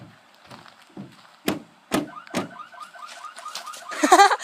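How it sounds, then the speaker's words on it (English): A car alarm starts up after a few dull thumps of hands pushing on the car, then cycles through repeating electronic tones that grow louder toward the end. "see if you can get the alarm to go off"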